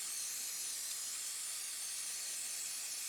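Aerosol cleaner sprayed over the outside of a Tecumseh diaphragm carburetor from a Toro snowblower, a steady close hiss that runs unbroken for about three seconds with no voices.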